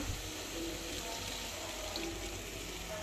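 Tamarind water poured into a pan while making rasam, a steady, continuous watery splash and trickle running for about three seconds at close range with no talk.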